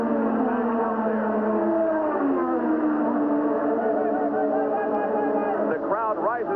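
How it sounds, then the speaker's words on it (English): A Formula 1 car engine at the 1985 Italian Grand Prix accelerates out of the pits onto the track, its high-pitched revs rising steadily at a distance, heard over a radio-like broadcast feed. "pulled out of the pit area and back onto the racetrack in a very slick-sounding engine"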